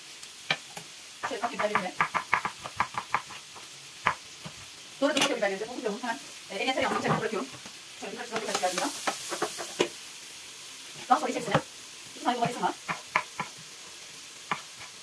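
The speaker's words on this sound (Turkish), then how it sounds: "tereyağımızın içine doğradığımız soğanları atıyorum" Diced onions and red peppers dropped into melted butter in a pan, sizzling and stirred in repeated bursts with a spoon scraping the pan, while someone talks over the cooking.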